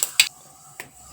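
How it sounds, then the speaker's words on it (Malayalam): Mustard seeds pop in hot oil with three sharp, crisp cracks at irregular intervals, close by and with no talking. "കടുക് പൊട്ടുന്നുണ്ട്"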